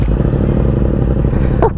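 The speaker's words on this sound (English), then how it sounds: "Let's start our bike at the same time" Loud, steady low engine rumble of motorcycles, including a Yamaha XSR700, starting and idling together, dense and close, with a brief clattering burst near the end.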